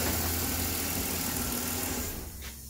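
A Mercedes C300 engine, with its check engine light on after intake removal and cleaning, idles with a steady, even rumble that eases slightly toward the end.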